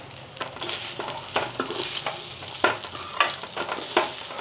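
A spoon scrapes and stirs jeera rice with pepper powder in a pan, producing irregular soft scraping strokes and light clinks against the metal over a faint sizzle, close up with no talking.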